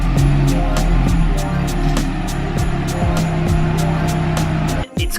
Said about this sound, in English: I need to move the cars around